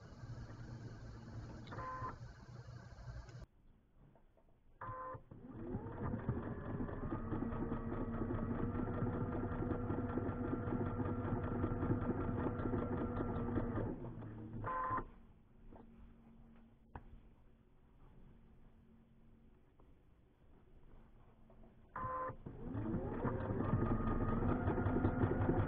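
A sewing machine joins rows of quilt blocks in a steady, close mechanical whir, running in long stretches broken by a brief pause between seams.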